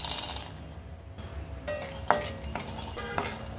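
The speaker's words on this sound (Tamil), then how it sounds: "அடுத்து நிலக்கடலை சேர்த்துக்கிறேன்" Roasting peanuts for halwa: a few sharp clinks and rattles of nuts dropping into a metal pan, with scattered small impacts, close and fairly quiet, no talking.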